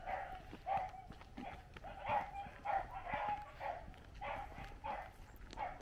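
Beagles on a rabbit hunt bark repeatedly in an irregular series, faint and somewhat distant, with short yelping calls spread across the whole stretch.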